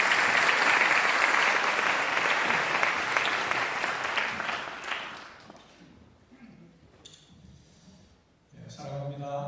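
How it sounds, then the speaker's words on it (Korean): A church congregation claps to welcome a guest preacher, dense steady applause filling the room for about five seconds before fading away, followed by quiet and then a voice starting to speak. "우리 귀한 선배님 박수로 영접합니다."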